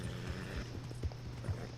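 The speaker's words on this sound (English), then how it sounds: "there are tons of horses at that butcher store" Horses gathered outside a butcher store in Red Dead Online, with soft hoof clops and low shuffling thuds repeating irregularly at a moderate distance over a steady ambient hum.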